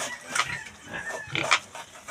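A pig grunting at a Christmas party: a few short, rough snorts and grunts in quick irregular bursts, fairly close, with no talk over them.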